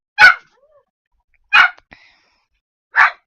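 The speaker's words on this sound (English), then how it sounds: "My dog's going crazy." A dog barks three times indoors, loud, sharp single barks spaced more than a second apart, with quiet between.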